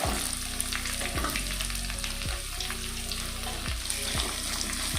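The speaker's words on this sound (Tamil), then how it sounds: "தேவையான உப்பு போட்டுக்கலாம், அப்போ தான் நல்லா வெங்காயம் ஃப்ரை ஆகும்." Onions fry in a pan with ginger and garlic, sizzling steadily up close, with a spoon scraping and stirring at a regular pace every second or so.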